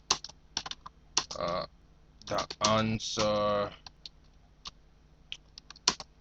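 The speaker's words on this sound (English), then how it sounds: "So here suppose I'm typing," Clicky computer keyboard typing in short bursts of quick keystrokes, close and fairly loud, with someone speaking briefly between the bursts.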